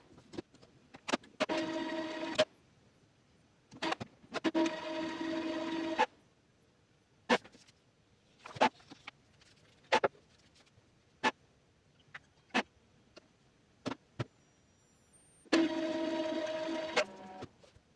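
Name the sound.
Epson ink tank printer running printhead cleaning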